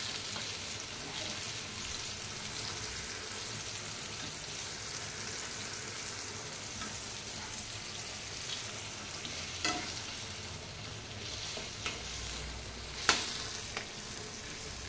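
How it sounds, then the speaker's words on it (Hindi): Fried arbi-leaf pakoras are tipped into a simmering curry in a home kitchen. The pan sizzles steadily and close, with a few sharp clinks and scrapes of stirring near the end and no voices. "इसमें मैं ये पत्ता डाल दूँगी, सॉरी पत्ता करी ये सब पकौड़ी जो बनाई है सारा ऐड करेंगे"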